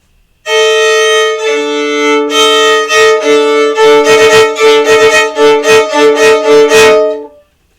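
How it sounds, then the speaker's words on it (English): Solo violin with its highest string deliberately tuned off pitch, playing the eerie opening theme of Saint-Saëns' Danse Macabre: loud, close, bright repeated double-stop notes in a steady rhythm, with no talking. "let's hear what zig, zig, zig sounds like on the violin"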